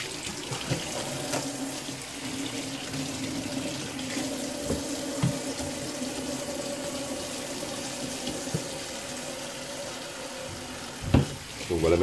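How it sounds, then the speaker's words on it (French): Hot water runs steadily from a tap into a container, a continuous splashing hiss at low volume with a few clunks and knocks along the way and a louder bump near the end. "simplement vérifier la température de votre eau"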